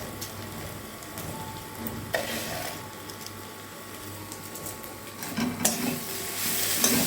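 Muri ghonto with fried rice and spice water stirred in a pan, a continuous sizzle under repeated close scraping and clattering of a spatula against the pan, growing louder toward the end.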